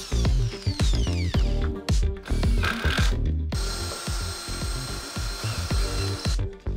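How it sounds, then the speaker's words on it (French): A power drill countersinks screw holes in fibre cement board with a larger second bit, giving repeated close bursts of whirring and grinding with short pauses and knocks between them, then one long sustained drilling run near the end. "on fraise avec une seconde mèche un peu plus grande pour que la tête de la vis soit à fleur de la plaque de fibrociment"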